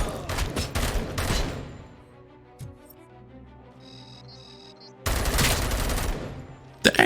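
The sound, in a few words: gun firing in video game Robocop: Rogue City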